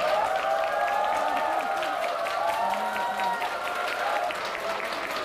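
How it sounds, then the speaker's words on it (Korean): Sustained applause from a church audience at Saenamteo martyrs' shrine, dense steady clapping lasting several seconds with a faint murmur of the crowd underneath. "큰 박수로 맞이해주세요."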